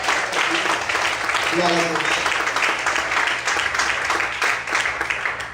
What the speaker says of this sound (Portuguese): Mais forte as palmas. Será que você pode aplaudir ao Senhor de forte?